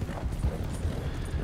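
Horse hooves clip-clop steadily in the Red Dead Redemption 2 video game, a continuous quick rhythm of muffled hoofbeats at moderate volume.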